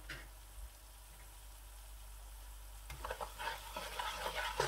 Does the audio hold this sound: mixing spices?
yes